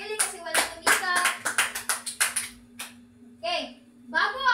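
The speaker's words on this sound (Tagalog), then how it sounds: "Bigyan niyo ng palakpak ang inyong mga sarili kasi walang lumiban." A classroom of children clapping for themselves in a bright, quick burst of sharp claps, close and lively, followed by children's voices speaking.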